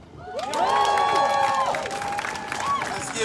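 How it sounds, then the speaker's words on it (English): A rally crowd outside the Police Officers Federation of Minnesota in Minneapolis bursts into cheering and applause, with loud whoops and rising shouts from many voices over clapping. "Let's give that brother another round of applause."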